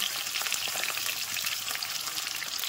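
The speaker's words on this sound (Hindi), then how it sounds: "ये देखिए कितना मस्त फ्राई हो रहा है" Potatoes fry in a pan for egg curry, giving a steady, close crackling sizzle that stays even throughout, with no voices.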